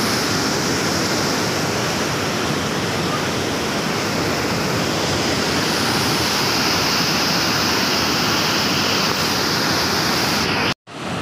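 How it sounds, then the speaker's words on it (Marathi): Steady roar of a waterfall crashing nearby at a Shiva temple site, broad and continuous for several seconds before cutting off abruptly at the end. "आणि हा आपला धबधबा."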